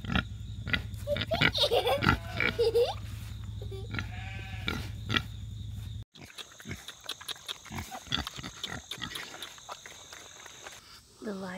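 A mother pig on a farm grunts in short, low bursts with snuffling, shuffling and a change of scene midway, mixed with other farm-animal noises nearby.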